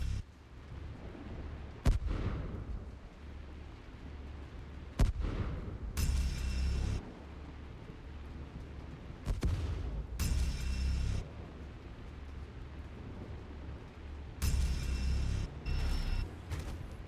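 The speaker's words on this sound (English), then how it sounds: "Incoming missile" Heavy missile explosions in a mech combat video game, a series of loud, booming blasts in irregular bursts, some single hits and some clustered impacts, over a steady low rumble.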